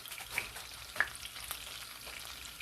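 Orzo frying in a pan, a steady dense sizzle with soft crackles and a couple of brief stirring scrapes, close and alone.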